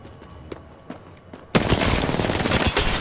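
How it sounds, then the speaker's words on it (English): Sustained automatic gunfire from an Apex Legends match bursts in loud and dense after a second and a half of quieter scattered shots, continuing without a break to the end. "I'm getting shot at."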